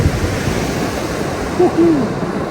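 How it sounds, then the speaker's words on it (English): Rough surf breaking heavily onto a shallowing shore at Cromer/Overstrand on a foggy night, heard as a steady, loud broadband wash of churning sea with no distinct individual wave crashes. "As you can probably hear, the sea's roughened up a bit because it's getting a bit shallower."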